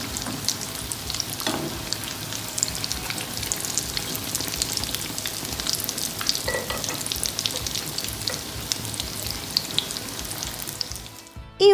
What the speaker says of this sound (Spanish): Y así seguimos friendo las tortitas hasta terminar.